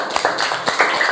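A classroom of students gives group D a short burst of applause, quick uneven claps rattling close by for about a second.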